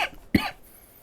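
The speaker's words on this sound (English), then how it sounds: "I'm sorry if I cough." A single short cough from a gamer who says he is a little sick, sharp and fairly close, followed by quiet.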